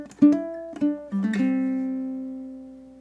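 A ukulele plays a short blues solo phrase, a few plucked notes with a slide ringing out and sustaining, heard alone up close.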